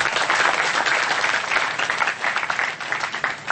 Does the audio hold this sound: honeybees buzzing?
no